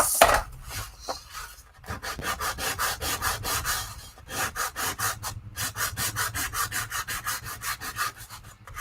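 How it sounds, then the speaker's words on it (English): Rhythmic back-and-forth rasping of sandpaper rubbed by hand against a Little Golden Book cover, close and steady, with brief pauses between bursts of strokes. "I'm only sanding the part that I'm going to glue."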